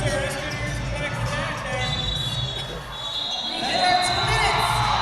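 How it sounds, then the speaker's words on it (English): An arena crowd at a roller derby championship bout in Broomfield, Colorado roars continuously, swelling louder near the end beneath an announcer's commentary. "You hear the crowd here in Broomfield, Colorado at the First Bank Center."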